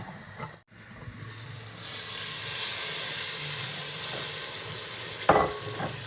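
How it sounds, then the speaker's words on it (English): A seafood and palm oil stew simmering in a covered pan, giving a steady soft sizzle and hiss that builds and holds, with a brief clink of a lid or utensil near the end. "we'll leave it to cook or simmer for 5 to 7 minutes"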